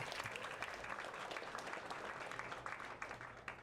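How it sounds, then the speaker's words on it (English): Applause from an audience at a meetup after a pitch: a smallish crowd clapping steadily for several seconds, somewhat distant and faint. "Let's give Cooper a round of applause."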